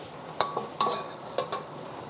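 Pork belly stir fry tossed in a pan gives a few sharp metallic clinks and scrapes, spaced irregularly and fairly close, with no voices.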